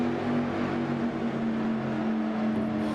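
Race cars circling Fuji Speedway in iRacing sim racing, a steady sustained engine drone with layered harmonic whine, moderately loud and unbroken, with no talk.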